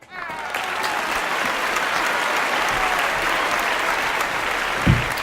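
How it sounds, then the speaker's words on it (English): Applause at a correspondents' dinner as Richard Nixon is introduced: a full, dense wash of clapping from a large crowd that holds steady and loud throughout, with a bump of noise near the end. "Please give a round of applause for Richard Nixon"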